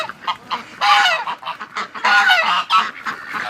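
Geese honk loudly and close in overlapping bursts, a raucous flock calling continuously.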